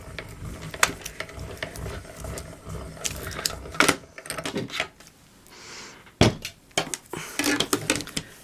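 A small desktop die-cutting machine rolls a cutting-plate sandwich through: a run of mechanical clicks, ratcheting knocks and grinding rumbles, close and moderately quiet, with sharper clunks near the start and end.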